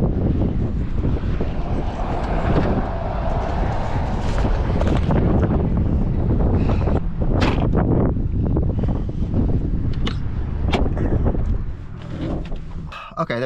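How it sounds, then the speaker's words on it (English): Strong wind outdoors in Alaska batters the microphone with loud, continuous rumbling gusts and buffeting, broken by a few sharp knocks and rustles, with no clear speech. "oh, the wind is blowing."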